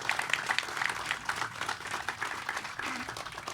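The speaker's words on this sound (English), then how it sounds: "let's give them a round of applause" A crowd at a September 11 remembrance ceremony applauds in honor of the military, a soft, distant wash of many hands clapping steadily with no single claps standing out.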